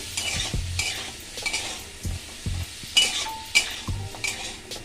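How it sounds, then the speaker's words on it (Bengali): Chopped onion and capsicum fry in a little butter, a soft steady sizzle broken by repeated scraping knocks of a spatula stirring against the pan, with no talking. "অল্প একটু বাটার দিয়ে আমি পেঁয়াজ কুচি ক্যাপসিকাম কুচিয়ে রেখেছিলাম সেটা ভেজে নেব"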